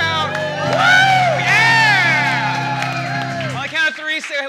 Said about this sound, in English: Just cheer and shout.